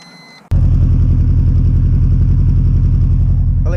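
A Subaru Impreza with a misfire problem and a weak battery fires up abruptly, then settles into a loud, steady, close rumbling idle with an even pulsing beat.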